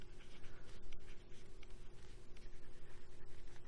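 Marker or chalk scratching out a unit on a board during a physics lesson on Coulomb's law, a steady run of short scraping strokes at close range with no talking.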